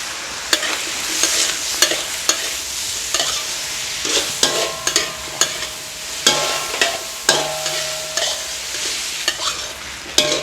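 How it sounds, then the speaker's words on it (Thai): Bell peppers and onion stir-fry in a pan with a constant sizzle and a brisk run of spatula scrapes and clacks against the metal, close and fairly loud, with no speech. "หลังจากเราผัดพริกหวานกับ หัวหอมใหญ่จนนิ่มแล้ว"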